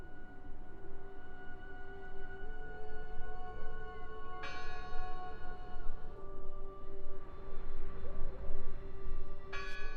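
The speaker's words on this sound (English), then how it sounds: "Listen! The bell! They're still in there!" Bell tolling in the horror adventure video game Draugen, with strikes around the middle and at the end ringing out over a steady low ambient drone and sustained tones.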